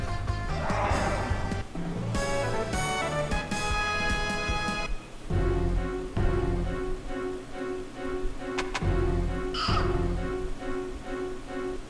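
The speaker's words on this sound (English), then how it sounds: "I like how mushrooms crow or caw." Mushroom enemies in Lunar The Silver Star Remastered give crow-like caws amid game music and effects, with repeated harsh calls heard over the background score.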